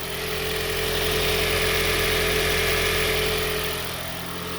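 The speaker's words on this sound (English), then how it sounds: "it looks like the engine is running perfectly fine" A Toyota Prius engine idles steadily after a solenoid install, a continuous mid-to-low mechanical hum with a faint constant whine, holding level throughout before easing slightly at the end, with no voices.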